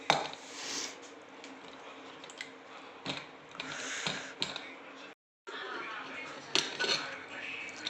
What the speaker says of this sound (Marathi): मी कुकरला खाली काढून घेतो